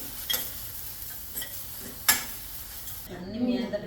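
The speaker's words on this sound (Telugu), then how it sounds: "ఆల్రెడీ ప్యాన్ హీట్గానే ఉంది కాబట్టి నువ్వులు వేసేస్తున్నాము" Sesame seeds tossed into an already hot pan for a stuffed brinjal curry, with soft crackling sizzle and a few stirring scrapes and clinks.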